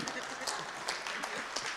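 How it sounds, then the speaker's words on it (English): Audience clapping at a panel discussion: a steady, moderately quiet wash of applause from a seated crowd that continues through the whole short stretch, with voices mixed in. "She also deserves clapping, of course, people."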